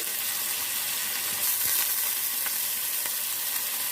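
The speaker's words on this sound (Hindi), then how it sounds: "ऑयल गरम हो चुका है, ऑयल में हम प्याज को फ्राई कर लेते हैं।" Two large onions fry in fully heated oil for mutton keema karahi, giving a continuous, close, even sizzle with faint crackles and no voices.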